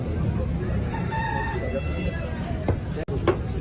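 Chickens cluck and a rooster crows at a food market in Indonesia, under a constant hum of crowd noise and nearby voices, with a sharp knock near the end.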